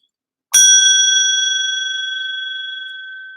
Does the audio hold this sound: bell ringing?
yes